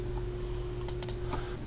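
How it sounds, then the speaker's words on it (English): Keys on a computer keyboard clatter as code is typed: a short, quiet burst of a few clicks over a steady low hum. "go ahead and type in this code."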